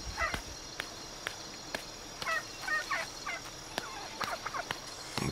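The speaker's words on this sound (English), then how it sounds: "I'm gonna kill some more of those turkeys." Turkeys gobble in the video game Shadow of the Tomb Raider, giving several short bursts of gobbling calls at a moderate distance over a faint ambient bed with sharp ticking clicks.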